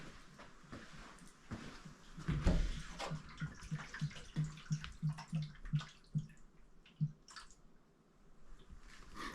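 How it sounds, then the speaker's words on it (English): Water gurgles and drips from a running sump pump in the basement of an abandoned house, a faint, irregular series of wet splashes and soft knocks, with a low hum under it. "Sub pump's making noise."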